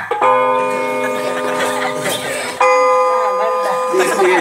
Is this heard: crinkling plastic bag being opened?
no